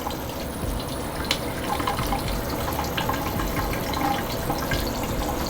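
Water still running through household pipes after the main water valve is shut off, a steady hiss with faint trickling that holds at one level throughout, with no one talking.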